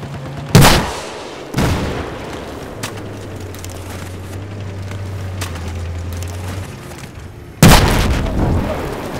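Tank attack in Battlefield 4: a few loud booming cannon blasts and explosions spaced seconds apart, with a low engine drone and scattered gunfire between them, close and heavy.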